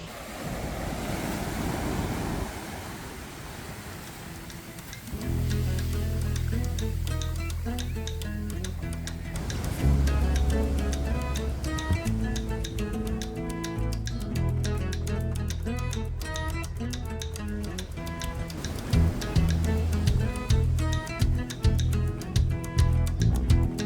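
Ocean surf washes onto a beach at the southern tip of Baja California, Mexico, as a broad, breezy rush that is clear at first and then sits beneath louder music.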